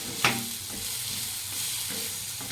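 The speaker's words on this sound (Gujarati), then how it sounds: "આ બધું સરસ અંદર તવીની અંદર ધીમા તાપે આપણે સાતળવાનું છે" Onion, tomato and garlic sauté gently in a pan over low heat, a soft steady sizzle broken by a sharp clink of utensil against pan near the start and light stirring scrapes after.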